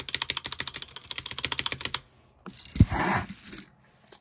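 Keys on a HyperX Alloy Origins mechanical keyboard with upgraded stabilizers clatter in a quick, steady burst for about two seconds. A brief quiet follows, then a louder, muffled jumble of handling noise.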